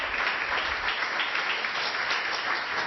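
A church congregation applauds for God, a dense, steady wash of clapping that fills the whole stretch at even loudness.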